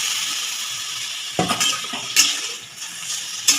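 Vegetables that were boiled and then fried are poured into a hot pan over high heat for Bengali shukto. A steady sizzle runs throughout, broken by a few sharp clatters and splashes as the pieces land.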